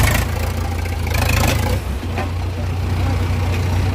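Two tractors, a 575 and an Arjun 555, rumble under load in a tractor tug-of-war, a loud, steady low diesel drone with people talking over it.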